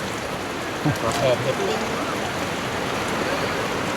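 A rain storm sends a steady, dense hiss of rain close by with no let-up, and a voice speaks briefly over it.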